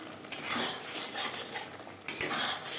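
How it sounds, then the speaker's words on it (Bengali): Potatoes with spices are stirred in a pan for a Bengali egg and potato curry, giving a continuous close scraping and sizzle with two sharper scrapes of the utensil. "আলুর সাথে মশলা বেশ ভালো করে কষিয়ে নেব।"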